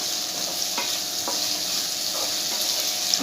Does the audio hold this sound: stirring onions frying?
yes